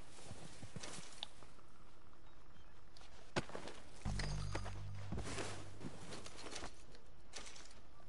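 Hooves of a Tennessee Walker horse walking in Red Dead Redemption 2, a steady clip-clop of near footfalls over faint game ambience, with a brief low rumble midway.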